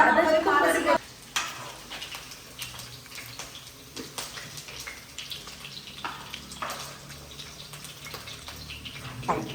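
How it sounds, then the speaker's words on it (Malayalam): Chicken shallow frying in oil in a home kitchen, a steady close sizzle with scattered crackles and occasional stirring scrapes, louder for the first second before settling. "സോ ഷാലോ ഫ്രൈ ചെയ്ത ചിക്കനാണ് അത്."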